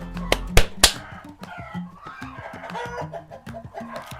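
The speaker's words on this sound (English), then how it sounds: "Hey! Stop! Hey, chickens!" Chickens cluck loudly and close by in a rapid, repetitive stream, with a few sharp shouts from a person at the start trying to stop them.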